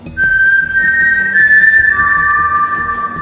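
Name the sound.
eerie whistle of El Silbon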